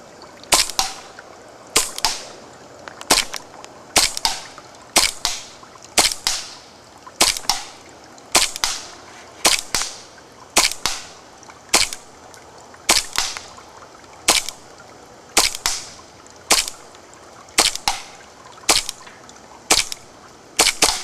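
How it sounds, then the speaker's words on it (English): A TSD M9 gas blowback airsoft pistol fires at a 50-foot target, with about twenty sharp, loud cracks spaced roughly a second apart, each followed by a brief metallic clatter of the slide. "We're going to fire a few shots at the 50-foot target to show you what the M9 can do."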